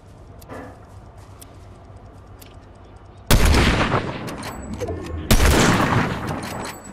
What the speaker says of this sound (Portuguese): Eles estão atirando em você, né? Não, eu tô atirando neles.